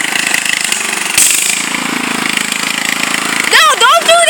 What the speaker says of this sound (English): Austin loves this tractor a little bit too much